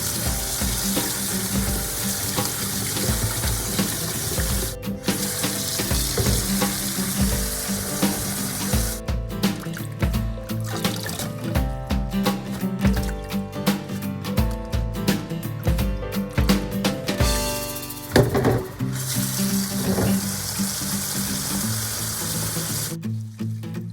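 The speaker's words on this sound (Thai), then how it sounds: "เดี๋ยวเราจะมาเด็ดใบแล้วก็ล้างทำความสะอาด หลายๆน้ำเลยนะคะ" Holy basil leaves washed by hand in several changes of water in a kitchen sink, with steady splashing and running-tap water that rises and falls in busy bursts, close and fairly loud, with no talk.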